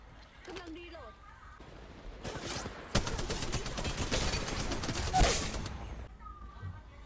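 Gunfire from a video game: a dense stretch of loud, rapid shots and bursts that swells in the middle, with quieter game ambience and faint sounds before and after.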